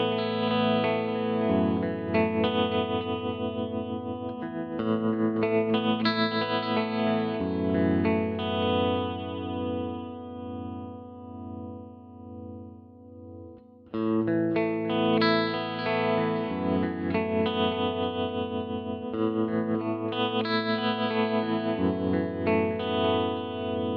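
An electric guitar runs through a Fractal Axe-FX effects unit switched by a latching control switch, playing sustained distorted, chorus-washed chords for about twenty-four seconds with one brief drop near the middle. No one speaks.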